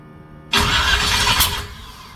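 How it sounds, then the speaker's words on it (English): A Chevy 350 small block engine in a Toyota Land Cruiser lets out a sudden loud bang that becomes a rough, roaring burst before dying down, close and with no talking. "That was a backfire again."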